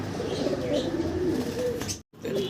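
Soft, low cooing of pigeons, including Mulliber Spanish pouter pigeons, rolls on continuously at close range, with a brief dropout near the end before the cooing resumes.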